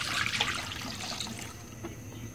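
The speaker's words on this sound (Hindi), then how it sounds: "1 लीटर हम दूध डालेंगे।" Milk, about a liter, poured into a wok for mango kulfi, a soft close splashing trickle that runs steadily for a couple of seconds without talk.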